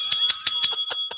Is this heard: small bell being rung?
yes